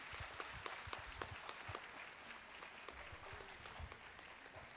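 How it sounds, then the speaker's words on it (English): Audience applause at a mental health festival event in India, a steady wash of clapping from a crowd, moderately faint and continuous throughout. "give a round of applause to yourself"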